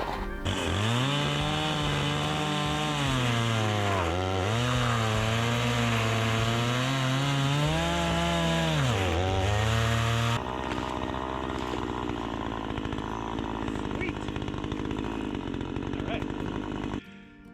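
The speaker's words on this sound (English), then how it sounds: "We're gonna break this up, cut it up into tiny pieces" A chainsaw runs loud and close, its engine pitch dipping and rising as it bites into wood, cutting it into small pieces, then settling into a rougher steady idle.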